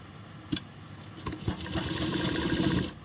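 A sewing machine stitching piping onto a kurti, a short burst of mechanical whirring that builds after a few clicks and handling knocks, then stops near the end.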